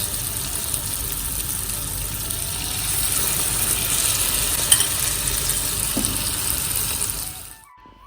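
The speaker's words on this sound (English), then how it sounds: "drop it in the ghee. Fry them in batches." Gokul pithe dumplings frying in hot ghee in a batch of three, a steady bubbling sizzle with light stirring scrapes that holds for most of the stretch before cutting off near the end.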